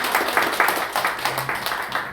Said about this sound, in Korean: 이럴 때 저 위에 박수도 한번 해주셔도 괜찮아요